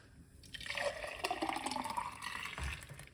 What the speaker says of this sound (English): Let's pour out this now and see how this look like.